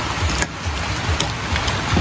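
Rain falls steadily and fairly loud during an on-and-off shower, a continuous broadband hiss with a few brief louder spatters and no voices.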